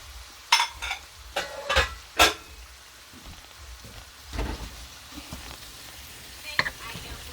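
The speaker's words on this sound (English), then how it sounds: "I'll break that down with this wooden spoon." Italian sausage meat sizzles in a pan for dirty rice as a wooden spoon breaks it up, giving a soft background fry with several sharp scraping and clattering bursts that come close together and then more sparsely.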